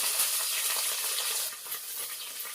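Onions, green chillies and a bay leaf sizzle steadily in hot oil in a pan while being stirred for tomato rice, giving a close, continuous bright hiss with small crackles throughout and no voices.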